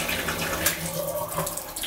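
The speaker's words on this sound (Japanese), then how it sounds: "ちょっとハンドシャワーね出してみましょうかね" Water runs from a hand shower in a hotel suite bathroom, a steady hissing spray with some splashing, heard at moderate level throughout.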